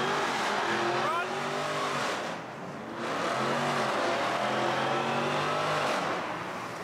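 A Mopar car does a tire burnout at a Houston car meet, its engine revving hard in repeated rising surges over continuous tire squeal, loud and close, with crowd voices around it.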